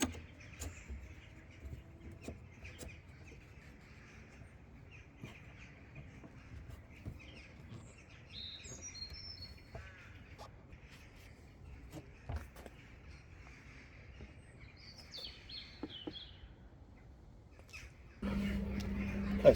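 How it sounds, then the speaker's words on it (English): Birds call outdoors beside a boat-railing fabrication setup, with faint scattered chirps and a few caws over a low steady background hum; a louder rumbling noise rises near the end. "excuse the noise of the birds"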